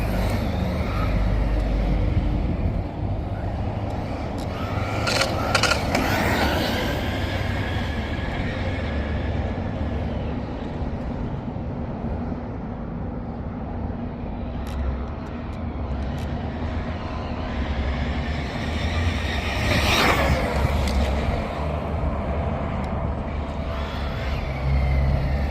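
An Arrma Big Rock 4x4 BLX 223S RC truck on a speed run: a continuous motor roar and whine swells as the truck passes near, around six seconds and again near twenty, over constant outdoor noise.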